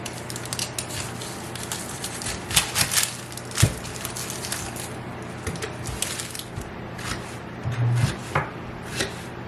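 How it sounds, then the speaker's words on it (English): A knife chops onions on a cutting board for Kraut Runzas, with irregular, close, crisp cuts and taps in bursts, some louder knocks and scraping between them. "now I'm going to cut up the onions for the Runzas."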